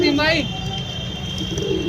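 Pigeons coo softly amid a busy, noisy pigeon-selling setting, with people talking nearby.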